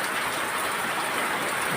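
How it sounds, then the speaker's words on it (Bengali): Steady rain pours down onto a waterlogged village courtyard, making a continuous broadband hiss with no clear individual drops, close and even throughout. "এই দেখেন উঠোনের মধ্যে পানি, অনেকক্ষণ ধরে বৃষ্টি হতেছে।"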